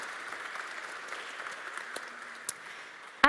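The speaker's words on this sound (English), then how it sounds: "massive round of applause." Audience at an open house event gives a round of applause, a fairly soft, even patter of clapping held throughout, with a couple of brief louder knocks near the end.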